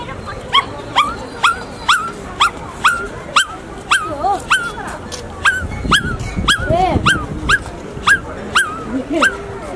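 A voice imitates a newborn puppy, giving a regular series of high, thin whimpers and yips about twice a second, close and clear, with some breathy vocal sounds underneath.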